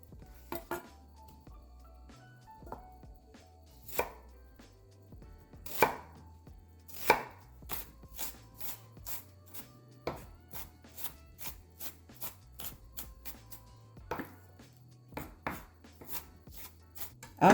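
An onion is chopped with a knife on a cutting board, giving crisp, fairly close taps in uneven runs, sometimes quick and sometimes spaced out, over a faint low hum with no talk.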